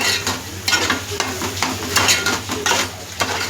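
Masala is stirred into squid and prawns frying in a pan, a spoon scraping in repeated bursts over a steady close sizzle, with no voices.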